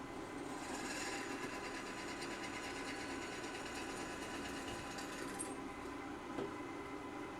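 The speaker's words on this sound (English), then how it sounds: "So we drill the first hole." A steady, high-pitched mechanical whir runs throughout, a power drill boring a rivet hole in metal for blacksmith tongs, with a brief shift near the end.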